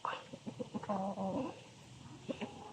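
Chickens cluck in a busy burst, several close-up clucks overlapping, then quieter scattered clucks trailing off.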